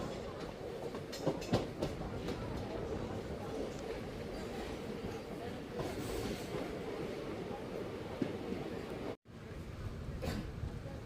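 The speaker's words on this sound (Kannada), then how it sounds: "ನಮ್ಮ ಟ್ರೈನ್ ಈಗ ಕೆಂಗೇರಿ ರೈಲ್ವೆ ಸ್ಟೇಷನ್ಗೆ ಎಂಟ್ರಿ ಆಗ್ತಿದೆ ಪ್ಲ್ಯಾಟ್ಫಾರ್ಮ್ ನಂಬರ್ 2ಕ್ಕೆ" The Wodeyar Express rolls into Kengeri railway station toward platform 2, heard from on board as a steady rumble with rhythmic wheel clatter and a brief dropout near the end.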